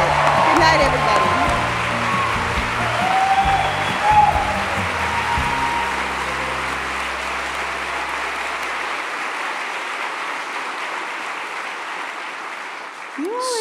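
Sustained applause from a live audience at an evening show in a Seattle town hall, a dense steady clapping wash lasting throughout, with a few voices and cheers over it near the start before it thins slightly at the end.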